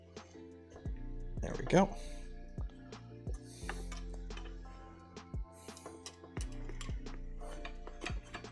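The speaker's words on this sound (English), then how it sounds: "watch me try and tighten these screws. These M5s." M5 socket-head screws being tightened while building a Cocoa Press 3D chocolate printer, giving a steady series of small ratcheting clicks and ticks. A person speaks briefly over them.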